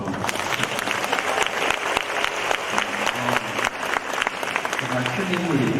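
An audience at a high school admissions briefing keeps clapping loudly and continuously, with a few brief spoken words breaking through near the end.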